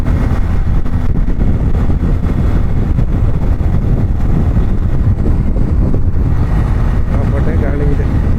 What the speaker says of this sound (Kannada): ಗಾಳಿ ಇದೆ.